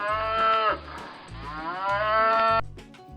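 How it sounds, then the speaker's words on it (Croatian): Two long, loud cow moos, one after another with a short gap, close by and clear with no talking. "Ova životinja nam daje svoje mlijeko i glasa se mukanjem. To je krava."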